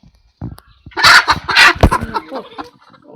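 Domestic hens clucking and calling close by in a village coop while one sits brooding on a clutch of eggs, a burst of loud overlapping clucks and squawks rising after a quiet start then tapering.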